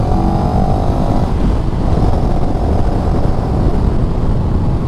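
A CF Moto CLX 700 motorcycle on a test ride gives a steady, loud engine drone mixed with rushing wind noise. The sound holds continuous and close with no break, and nobody talks.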